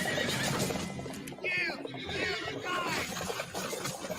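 A horse neighs and whinnies several times over busy hoofbeats and rustling, a loud, close and continuous scene of a horse being ridden through woodland.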